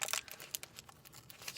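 Paper or similar craft material is torn and crinkled by hand in short, quiet bursts of crisp rustling and ripping while it is shaped into a heart, close up and without talk.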